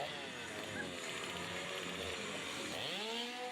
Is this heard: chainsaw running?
yes